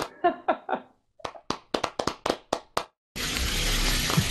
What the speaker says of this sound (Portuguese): a gente pode dar uma calorosa salva de palmas pro Cauê